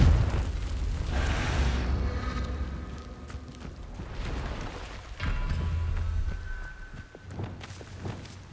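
Confringo fire blast spells exploding in Hogwarts Legacy, several booming bursts spread across the stretch, each swelling and fading, mixed with footsteps and game ambience.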